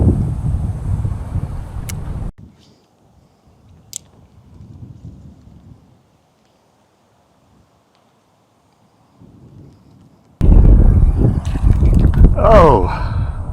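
Wind blowing at a park spring while a fishing line is cast, a loud rumbling gust against the microphone that drops to near silence in the middle, then returns just as strongly, with a voice heard briefly.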